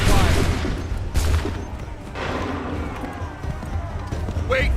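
Musket volleys crack out in Assassin's Creed 3, with a couple of loud bursts of rolling gunfire amid battlefield noise, shouted commands, and what sounds like hooves or running.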